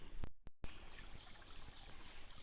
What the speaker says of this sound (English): Lots of water going past it